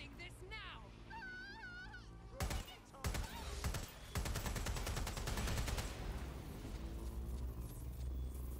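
Rapid bursts of gunfire rattle through a first-person shooter game, dense and loud, layered with game sounds and a voice speaking over the shooting.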